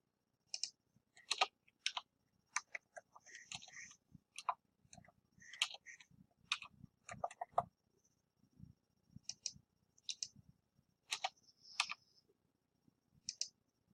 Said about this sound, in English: let me do a little bit more typing